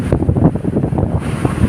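Strong wind buffets the microphone in a steady, rumbling roar near the sea at Patapat Bridge, Pagudpud, Ilocos Norte.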